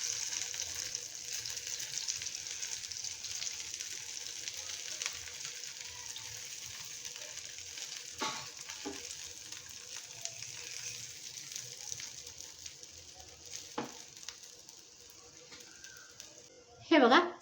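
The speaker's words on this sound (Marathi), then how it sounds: "छान असे आपण कटलेट आलटून पलटून मस्त क्रिस्पी करून घ्यायचे आहेत." Vegetable cutlets made with semolina sizzle and crackle in hot oil as they fry until crisp, a soft steady hiss with occasional louder pops and a clatter near the end.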